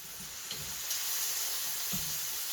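Salted chicken curry liquid heating toward the boil in a pot gives a steady, even hiss of steam and simmer with a few faint bubbling pops underneath. There is no talk.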